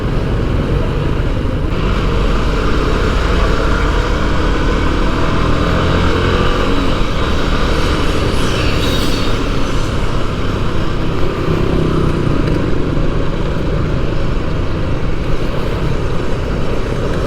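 A Benelli motorcycle engine drones steadily and loudly throughout while riding, with heavy wind rumble and no talking.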